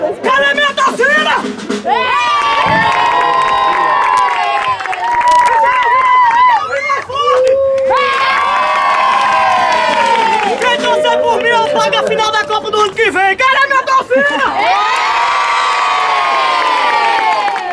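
A large crowd cheers and shouts loudly, children's high voices rising in waves of excited yelling that surge, dip briefly and swell again, close and dense throughout.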